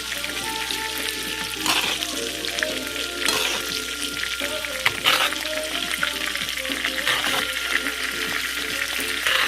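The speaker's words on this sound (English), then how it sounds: "Alright, so I'm going to go ahead and baste my salmon." Stuffed salmon filled with spinach and artichoke dip sizzles and fries steadily in a hot pan while being basted, with spoon scrapes and bursts of spattering oil, close and continuous.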